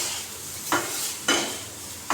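Chopped tomatoes hitting a pan of hot spiced oil, a soft steady sizzle broken by three sharper, brief hissing bursts as pieces drop in.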